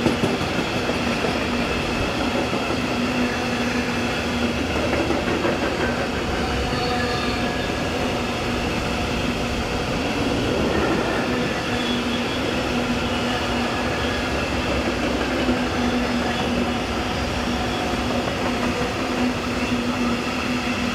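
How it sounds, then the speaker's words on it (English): An empty coal train hauled by locomotives 189044 and 042 rolls past in a continuous loud rumble of wagons and wheels on rails, with a sustained tonal squeal running through it. "this empty coal train from Neunkirchen to Oberhausen"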